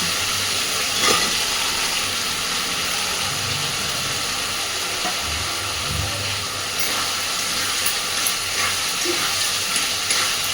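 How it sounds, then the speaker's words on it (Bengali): Fried potatoes are sautéed in oily spice paste for a cabbage ghonto, giving a continuous soft sizzle and hiss with occasional stirring scrapes in the pan, no voices. "খুব সুন্দর করে আলুটাকে মিনিট 5 এই মশলার সাথে ভালোভাবে কষে নেব।"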